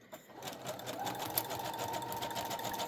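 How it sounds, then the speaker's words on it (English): A sewing machine on a zigzag stitch with regular thread and needle runs steadily, stitching two pieces of paper together for a junk journal tag, a continuous close whirring hum after a brief start. "I'm just going to go all the way around sewing those 2 pieces of paper together"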